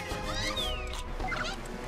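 Clucking chickens and busy game effects in Chicken Invaders 5 form a dense, continuous mix with warbling cries and sweeping tones.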